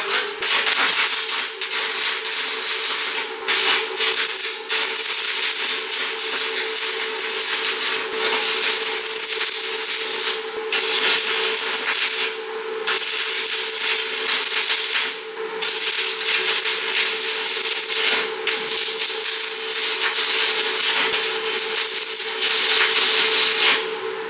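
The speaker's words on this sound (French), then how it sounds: "Je vais faire ma deuxième soudure, comme ça on va voir un peu ce qu'on perd." A welding machine running through a weld gives a steady, loud broadband hiss and crackle, with a constant tonal hum, powered from a DJI Power 1000 portable charging station; brief dips break it, no talking.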